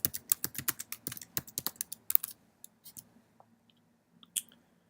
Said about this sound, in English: You'll want to fully type out our market center name